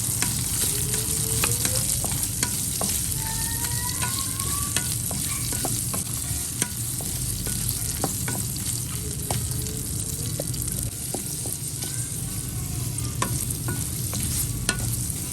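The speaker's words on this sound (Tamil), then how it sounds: "நான் நல்லெண்ணெயில் அரை வெங்காயம், ஒரு ஸ்பூன் உளுந்து, கடுகு, 2 வரமிளகா இதை போட்டு நல்லா வதக்கிக்கலாம் லோ ஃப்ளேமில்." Onion, urad dal, mustard seeds and dried chillies frying in sesame oil over low flame, a steady close sizzle with scattered pops and crackles and occasional stirring scrapes, no voices.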